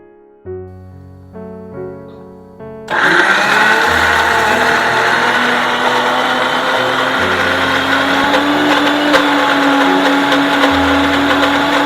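A mixer grinder grinding coconut, green chili, mustard seeds and curd for pavakka kichadi starts with a few short pulses, then runs as a steady, loud whirring drone.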